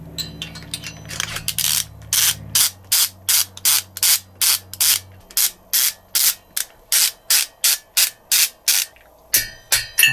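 A ratchet wrench tightens bolts on the top end of a Pinasco 251 scooter engine, giving a long series of quick, regular clicking bursts, close and loud, with a low hum underneath early on.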